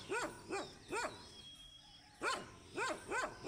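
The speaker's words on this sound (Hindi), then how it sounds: "साथ वालों का डॉगी भौंक रहा है" A neighbour's dog barks outdoors, with six loud, sharp barks coming in two clusters separated by a short pause. The sound is fairly close and there is no talking.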